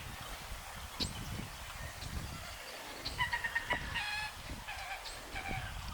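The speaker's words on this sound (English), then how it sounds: "You can hear the gallinules in the back." Common gallinules calling from the background of a wetland sanctuary, a series of clucking, chicken-like notes and short rattles over steady marsh ambience, with other birds calling faintly.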